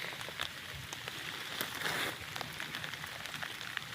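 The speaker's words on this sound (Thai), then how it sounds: "ฝนเริ่มตกแล้วครับผม" Rain begins falling in a forest during a mushroom hunt, a dense patter of drops on leaves and ground heard all around at moderate volume, with no voices.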